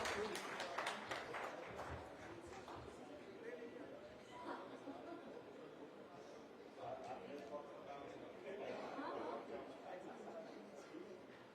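Audience applause at a stage event where a memento is being presented, the clapping steady and moderately loud across the whole stretch, mixed with crowd chatter and voices.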